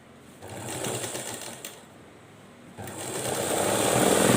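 A sewing machine stitching the lining of a blouse, a fast whirring motor run that pauses briefly and then resumes louder and steadier, close and alone.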